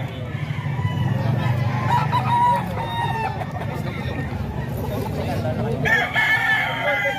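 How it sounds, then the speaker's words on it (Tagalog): Chickens and roosters at Sir Nelson's gamefowl farm, several crows rising over steady clucking and a crowd's chatter, with a sharper crow standing out near the end. "Ayan, mga manok ni Sir Nelson, mga ka-idol."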